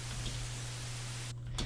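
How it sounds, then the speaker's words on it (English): A burst of white-noise static plays as part of a remix track. A dense, loud hiss holds steady with a low hum beneath, then briefly drops away near the end before a short return. "why the hell would you put white noise or static in a song?"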